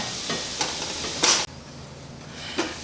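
Spinach stirred in olive oil in a pan, a steady close sizzle with scraping stir strokes and a sharper burst of hiss midway.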